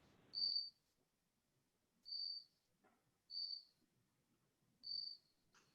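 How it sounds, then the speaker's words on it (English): A cricket chirps in the background of a legislative meeting room, four short, thin, high trills spaced a second or two apart, faint but clear against near silence. "I don't know whose cricket I'm hearing."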